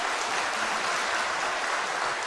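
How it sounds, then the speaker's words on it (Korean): A church congregation at an afternoon praise service claps together, a steady even wash of applause that is soft and somewhat distant, with no voices standing out. "그런 의미에서 우리 박수를 한번 하겠습니다"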